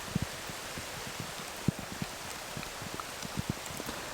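Rain falls in a Southern California woodland, a soft steady hiss with scattered low drips and pattering drops landing close by on leaves and ground, no voices.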